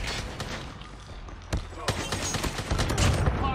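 Rapid AK-117 assault rifle fire during a ranked Call of Duty Mobile match, sharp crackling bursts and single loud cracks repeating over a dense game soundscape, with players talking over it.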